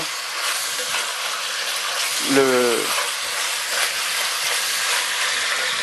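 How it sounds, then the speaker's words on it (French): Beef browns in a pot for boeuf en daube, a steady bright sizzle holding throughout with a brief squeaky scrape midway, no voices over it. "Faire brunir la viande pour empêcher les sucs de quitter la viande lors de la cuisson."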